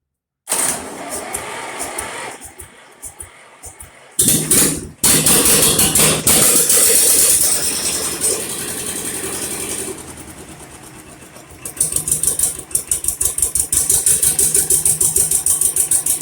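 A Shenniu 4/25 engine fitted with a straight pipe exhaust runs loud and close, a rough raspy idle that surges in bursts, drops out briefly, then settles into a steady, sharp chatter.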